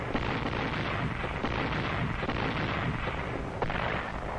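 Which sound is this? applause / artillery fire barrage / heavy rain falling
artillery fire barrage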